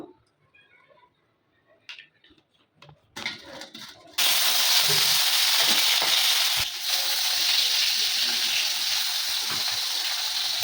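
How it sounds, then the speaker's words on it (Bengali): Fish (shingi) frying in hot mustard oil in a wok, a loud steady sizzle that bursts in after some quiet clatter and stays dense and continuous to the end. "মাছটা ভাজা হয়ে গেছে"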